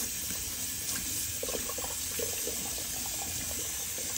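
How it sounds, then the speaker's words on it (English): Tap water runs steadily over a West Coast Shaving Honeycomb synthetic shaving brush, a continuous close hiss of flowing water with faint splashing as the knot is rinsed, no talking. "Let me give this a little rinse so you can see the knot."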